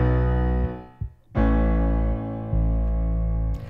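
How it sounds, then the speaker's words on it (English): Piano and bass guitar playing together, the bass adding a heavy low end under sustained piano chords, with several note changes over a few seconds and no voices. "when that bass guitar comes in together, they're going to sound like this."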